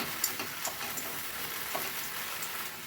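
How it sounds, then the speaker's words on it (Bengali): Leaves tossed with salt in a hot pan, a steady close sizzle with scattered soft scrapes of stirring throughout, no voices. "লবণের সাথে পাতাগুলোকে ভালো করে মিশিয়ে নেব।"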